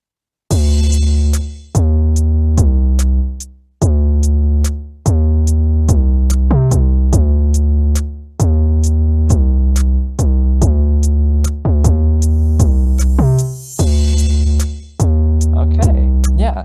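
A punchy trap beat with deep booming bass hits and sharp snappy drums in a steady pattern; swelling, rising washes of reversed crash cymbal noise build into several hits.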